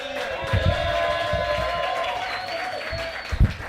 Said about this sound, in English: Keep it going for Skyler Higley.